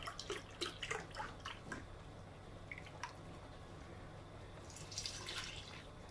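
Milk pouring into a pot of mac and cheese sauce, a soft trickling and splashing stream close by that tapers into faint sloshing and stirring, fairly quiet.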